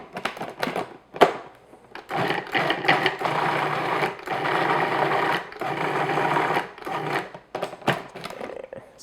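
A food processor runs in loud, close bursts as it blends cream cheese brownie batter, stopping briefly between pulses, with a whirring motor tone and no speech.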